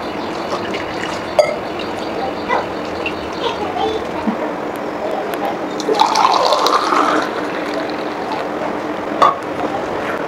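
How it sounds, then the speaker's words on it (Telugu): Beetroot and carrot juice being strained, a soft liquid pouring and trickling through a strainer with occasional small clinks, fairly close and steady, with faint voices in the background. "ఇప్పుడు నేను వడబెట్టుకుంటున్నాను"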